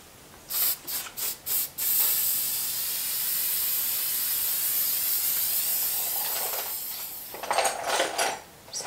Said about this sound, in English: I might give it a spray now and just spray that neck.